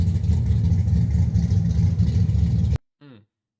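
A car engine in a video game droning steadily at moderate revs, loud and close, then cutting off abruptly before a short faint voice.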